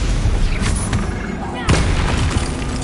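Confringo blasting spell cast in Hogwarts Legacy on PS5 Pro, sharp explosive booms landing amid a dense, loud background of combat noise.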